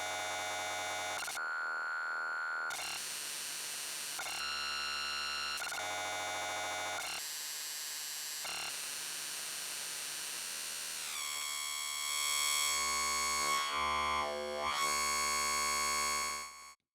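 Buzzy electronic tones from a Benjolin synthesizer, built from scratch, hold steady and then jump between pitches in repeating stepped patterns of 4 or 8 rungler cycles, loud and continuous, ending with a swooping, warbling passage.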